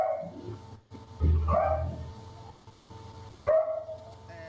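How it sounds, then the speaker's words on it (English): A dog barks in short bursts near a video-call participant, loud and close through the microphone, with a few yips and a whimpering tone between barks. "we can hear any dog near you"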